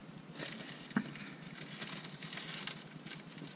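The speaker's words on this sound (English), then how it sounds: "This rain is really bad." Rain patters steadily on a surface outdoors during a walk to a German bunker, a continuous soft crackling hiss with one brief louder knock near the start.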